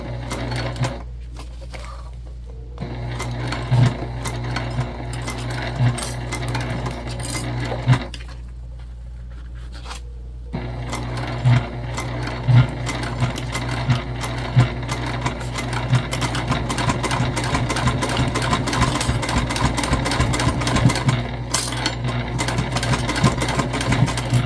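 A sewing machine stitches a travel sling bag in repeated runs, its motor whirring with a rapid needle chatter, broken by short pauses, close and loud throughout.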